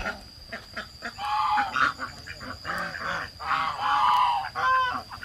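Geese honking in a farm garden alongside ducks, repeated loud nasal calls overlapping in bursts from several birds nearby.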